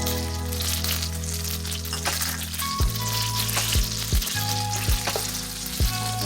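Minced garlic and the white parts of scallions sizzle in melted butter, a steady close frying crackle with a low hum underneath and a few brief clinks of a utensil against the pan.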